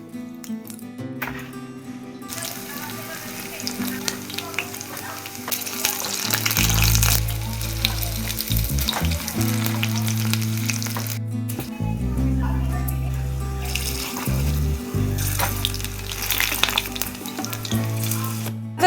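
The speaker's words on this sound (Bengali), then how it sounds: "এই যে ফুলকপির বড়াটা ভেজে নেবো" Cauliflower fritters frying in hot oil in a home kitchen, a steady sizzle running under loud background music with some voices.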